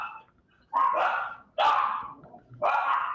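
Dogs named Titan and Grizz bark in three loud, close bursts spaced about a second apart, each a rough, ragged volley with brief quiet between.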